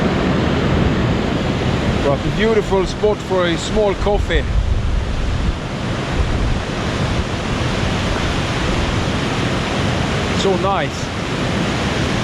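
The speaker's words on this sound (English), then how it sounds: "It's very windy and only 12 degrees." Strong wind roars and buffets the microphone throughout, a steady broadband rush with a person talking briefly over it, outdoors in the Norwegian highlands at 12 degrees.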